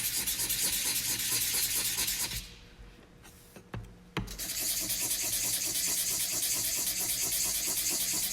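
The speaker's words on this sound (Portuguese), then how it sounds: "Agora vamos pegar a outra placa de cobre, lixar um pedacinho dessa superfície." Steady, loud scraping of abrasive paper over a copper plate surface, rubbing continuously except for a short quiet pause near the middle, with no voices.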